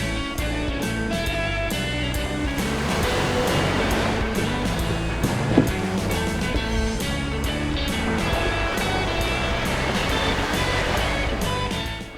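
Dense, continuous roar of surf breaking at a beach, steady and loud throughout with no gaps or voices.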